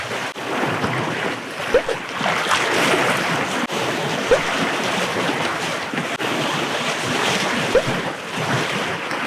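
Surf washing steadily over the shore at a fishing spot as the tide rises and floods the first casting point, a continuous broad rush with wind buffeting the microphone and a few soft knocks, no talking.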